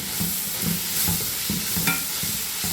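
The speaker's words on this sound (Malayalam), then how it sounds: "ഇതിനകത്തേക്ക് ഞാൻ കുറച്ച് ഒരു 2 ഉരുളക്കിഴങ്ങ് കട്ട് ചെയ്ത് ഇത്രയും പച്ചമുളകും കൂടെ ഞാൻ അതിനകത്തേക്ക് ഇടുക." Cut potatoes and green chillies sautéing in a pan, with a steady soft sizzle under repeated scraping strokes of a spoon, close and fairly quiet, no talking.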